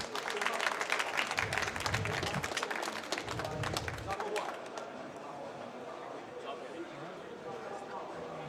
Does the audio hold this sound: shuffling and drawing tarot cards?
no